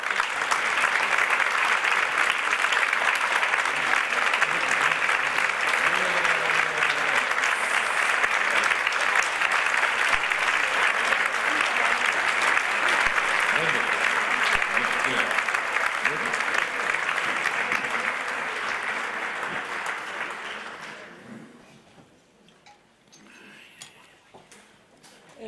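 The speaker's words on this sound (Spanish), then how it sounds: "le recibimos a los tres con un fuerte aplauso en este teatro con Morán y Carrera." A theatre audience gives a long, loud round of applause as three guests are welcomed to a talk, the dense clapping holding steady for about twenty seconds before fading to quiet.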